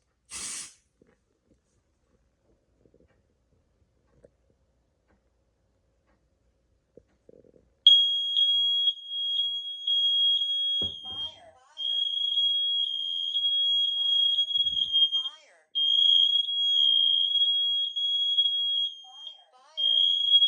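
Kidde wireless photoelectric smoke alarm sounding during a test, a loud piercing electronic tone repeating in long steady beeps with brief gaps, after several seconds of near silence and faint handling noises.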